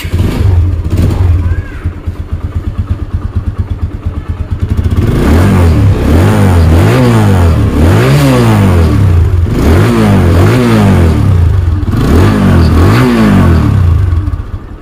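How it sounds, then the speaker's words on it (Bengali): A TVS Apache 160cc motorcycle, a matte blue Ghora model, idles roughly and then is revved repeatedly in loud, close, rising-and-falling bursts, each rev clattering up and settling back. "তো দেখাবো আপনাদেরকে বাইকটির সাউন্ড কন্ডিশন"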